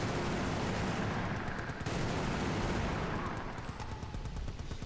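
Assault rifle gunfire in Battlefield Bad Company 2 during a multiplayer match: dense, continuous bursts of shots and explosions, loud and sustained with no pauses, filling the whole stretch with a rough, crackling roar.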